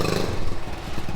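A 1969 Honda Trail 70 motorcycle, struggling on years-old gas, runs with a brief rough putter and clattery idle, close and moderately loud for just over a second.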